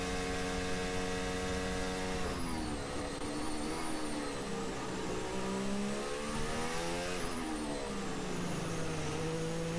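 A Formula 1 car in British Grand Prix practice, heard from onboard, drones loudly and steadily while its engine note climbs through repeated gear changes. There is no talking.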